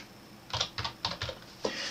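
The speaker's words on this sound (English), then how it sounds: "on your keyboard, type the word Storage" Fingers tapping on a computer keyboard, five or six distinct close keystrokes in a short irregular burst, crisp clicks with quiet gaps between them.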